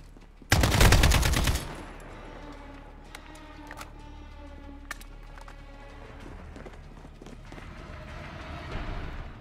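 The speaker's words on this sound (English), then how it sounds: "that many footsteps you'd never want to hear on any game" Many enemy footsteps in Call of Duty Modern Warfare, starting with a loud burst of automatic gunfire, then a long patter of scattered, rhythmic steps and clatter at mid distance.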